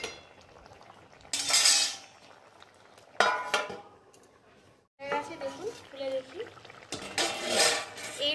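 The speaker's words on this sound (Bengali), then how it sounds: "এবার এর মধ্যে আমি মাছ ভাজাগুলো দিয়ে দেবো।" Fried rohu fish pieces go into a simmering sesame, eggplant and rohu curry, followed by clattering utensil and pot knocks as the lid goes on, in short bright bursts over low kitchen background and faint voice.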